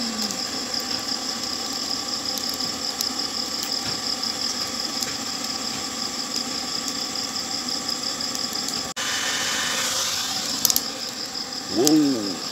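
An electric air blower fans a scrap-metal wood charcoal forge, giving a steady mechanical whir with broadband rushing air that continues throughout and grows fuller and louder partway through as the blower speeds up.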